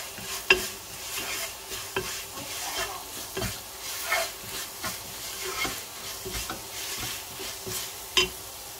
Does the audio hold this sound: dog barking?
no